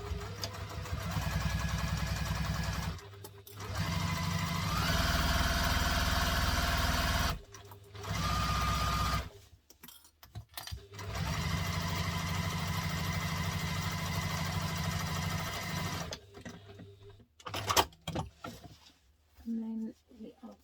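A sewing machine stitches a rectangular bag panel on a construction-length stitch, running in several steady whirring bursts separated by short pauses, close and clear, with a person talking briefly near the end.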